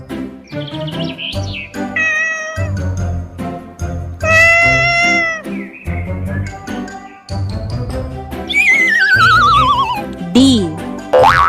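Several short, rising and falling meows from a cat play over a bouncy children's tune, with a voice heard alongside.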